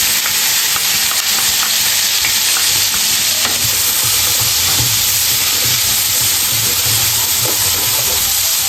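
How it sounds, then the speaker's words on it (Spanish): Onion hits hot oil with garlic and chili in a pan, a loud, dense, steady sizzle with a hissing wash and occasional stirring scrapes, with no talk. "vamos a agregar la cebolla."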